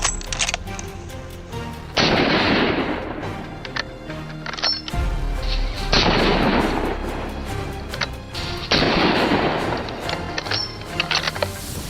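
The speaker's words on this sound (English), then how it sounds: "But 2 more thunderous shots follow quickly, extinguishing all hope." Rifle shots during a wild boar hunt on open grassland, three sharp loud reports spaced a few seconds apart, each followed by a rolling echo, with background music running underneath.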